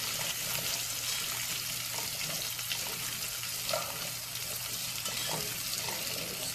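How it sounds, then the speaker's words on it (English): Potatoes fry in bacon grease in a skillet, giving a steady, close sizzling hiss with faint scraping as they are stirred around the pan. "Stir that up a little bit."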